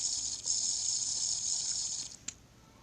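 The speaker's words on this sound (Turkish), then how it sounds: "bir kahve dökeyim" Coffee poured in modded Minecraft, a steady hissing liquid stream that runs for about two seconds, then cuts off with a brief splash and fades, close and fairly quiet with no speech.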